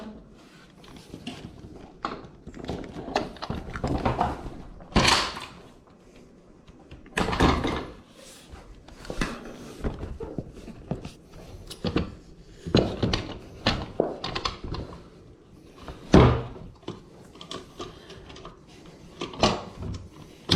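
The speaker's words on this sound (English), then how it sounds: "with the door studs on now, I can easily move this door however I want to" A flat jamb door fitted with Door Stud rollers is rolled across the floor into place, giving irregular rumbles, knocks and clunks with short pauses between them.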